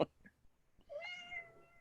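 A black house cat gives a single short, clear meow indoors, fairly faint and close, after a brief soft chirp, with no talking over it.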